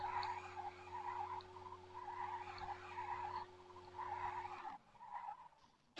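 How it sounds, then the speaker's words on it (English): BMW M4 drifting in Car Parking Multiplayer, a game car's engine holding a steady drone while tires squeal in repeated skids, then cutting off near the end; loud and continuous, no voices. "I will drift that M4 like that"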